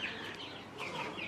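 Chicken clucking on a family farm, a brief run of soft, close bird calls over a hissy outdoor background, with no talking.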